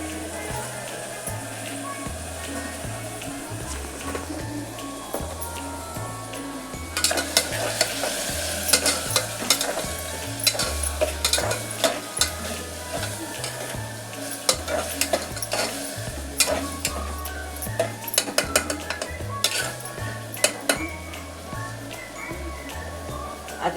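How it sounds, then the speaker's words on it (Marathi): Ginger-garlic paste, a spoonful, sizzles and fries in a pan while being stirred, with steady scraping strokes and a busier, brighter crackle building after the first few seconds; no one speaks. "1 चमचा अद्रक लसूणची पेस्ट टाकते."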